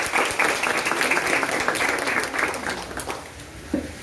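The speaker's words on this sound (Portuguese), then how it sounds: "vamos aplaudir o Senhor" A church congregation applauds its pastor at a water baptism service, a dense roomful of clapping that carries steadily at moderate loudness for several seconds before thinning out near the end.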